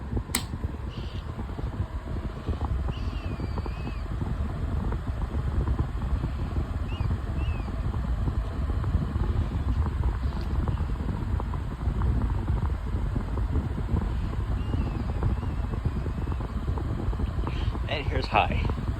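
A Deluxe 16-inch oscillating fan running on medium speed, a constant close whooshing airflow hum under someone talking, with a few faint clicks near the end.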